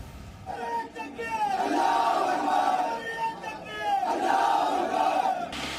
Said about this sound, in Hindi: लेकिन भीड़ लगातार नारे लगाती रही